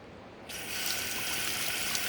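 Water pours steadily from an opened sink tap in a house in Vilcabamba, Ecuador, beginning as a sudden gush after a brief quiet moment and continuing as a close, even rush with faint draining gurgles.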